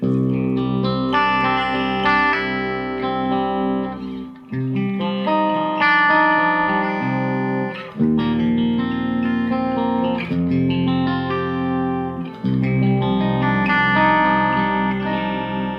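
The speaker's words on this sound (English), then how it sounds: "This is with the reverb on in the clean channel." Clean electric guitar chords through the clean channel of an ENGL Savage Special Edition 120W head ring out with lush reverb, sustained and full, changing every few seconds with a smooth wash trailing behind each strum.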